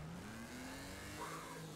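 Race cars in the video game Wreckfest run a figure eight track, engines droning steadily with a rising rev and a car sweeping past near the end, no talk.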